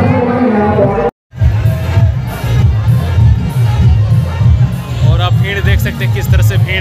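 Dense crowd hubbub at a Ganesh Puja pandal in Bokaro: a steady wash of many voices, shouts and children's cries close around, with occasional cheering rising over the babble after a brief drop-out.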